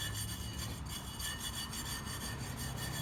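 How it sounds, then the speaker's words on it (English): An old mower tire and rim, from an eXmark Metro, being scrubbed clean: a steady, close, gritty rubbing that continues without pause and with no talk. "I'll do a little bit more scrubbing. I want to try to get this as clean as possible."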